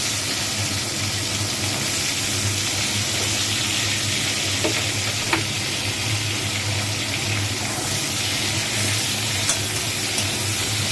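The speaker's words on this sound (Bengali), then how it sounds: "এই যে এবার দেখো আলুগুলো ছেড়ে দিচ্ছে। আলুগুলো একটু ভেজে নেবে।" Potato pieces frying in hot oil in a Bengali home kitchen, a loud, continuous sizzle with faint crackles and an occasional light clink, steady throughout.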